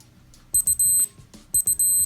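Two bursts of high, electronic beeping from a Casio G-Shock GA-700 (module 5522) digital watch timer alarm, each a quick pair of short beeps followed by a longer tone, close and clear.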